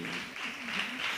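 A church congregation claps together in a continuous patter of applause, moderately loud and steady, with a voice faintly beneath it.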